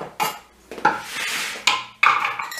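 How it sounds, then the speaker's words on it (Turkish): Four garlic cloves tossed into a pan one after another, giving several sharp clinks and rattles at the metal with short sizzling scrapes between them, close up and fairly loud, with no talking. "4 diş sarımsağımı atıyorum."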